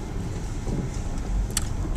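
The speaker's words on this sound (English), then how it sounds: "There's a lot of traffic in the road." Road traffic with cars passing makes a steady, broadband rumble and hiss that stays loud and continuous, with no voices over it.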